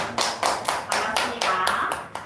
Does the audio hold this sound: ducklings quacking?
no